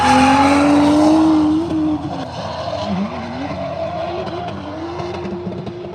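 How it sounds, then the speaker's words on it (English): Drift car on the Ebisu Circuit in Japan, loud and close, its engine note sweeping high, then dropping through a downshift with tire squeal and a rougher, lower roar after. "It's a bit of a downshift there."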